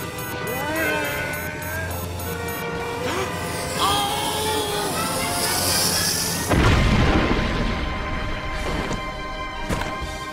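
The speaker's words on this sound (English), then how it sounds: "Explosion imminent!" A cartoon explosion in an animated show: a sudden loud boom and crash after busy music and sound effects, with characters talking over the scene before and around the blast.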